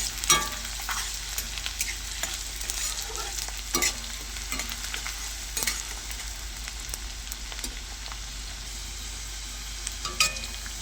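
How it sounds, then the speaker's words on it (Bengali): Chopped onion and green chili stirred in hot oil crackle and sizzle up close, with the spoon scraping the pan in repeated sharp strokes over a steady hiss. "পেঁয়াজ কুচি আর কাঁচা লঙ্কাটা একটু নাড়াচাড়া করে দেবো"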